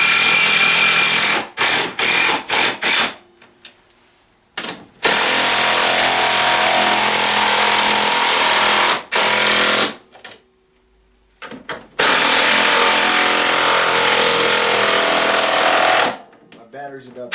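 A power tool drives bolts tight on the rear rack of a Tao Tao CY150A scooter, running in loud sustained buzzing bursts separated by short pauses.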